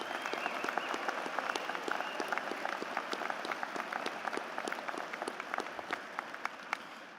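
A high school graduation crowd gives sustained applause in honor of mothers and grandmothers, a steady wash of many hands clapping with sharp individual claps standing out, heard from a distance in a large hall.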